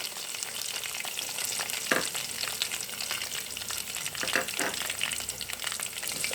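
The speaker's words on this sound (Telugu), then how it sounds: "పోపు చక్కగా ఫ్రై అవుతుంది" Onions and green chillies with curry leaves sizzle in hot oil as a tempering in a pan, a loud, dense, continuous frying crackle with a few scrapes of stirring.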